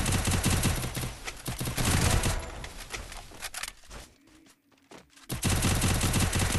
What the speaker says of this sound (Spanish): Se mató el Sammy con dos tiros